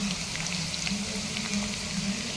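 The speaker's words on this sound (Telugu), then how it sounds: "ఒక 10-15 మినిట్స్ ఇంకా ఫ్రై చేస్తున్నాను" Potatoes fry in a pan with fenugreek seeds, curry leaves, salt and ginger-garlic paste, giving a steady, close, even sizzle with faint bubbling and no talk.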